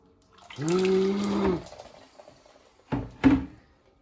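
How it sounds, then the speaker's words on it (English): A litre of water is poured into a marked measuring jug during a home oil change on a Jaguar XFR 5.0L V8, a steady splashing pour lasting about a second, followed by two short knocks as the jug is handled. "I'm putting a litre of water in and put it inside here."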